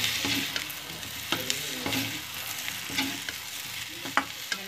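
Potatoes being mixed and fried in a pan for aloo sabzi, with a constant close sizzle and rhythmic scraping stirs about once per second.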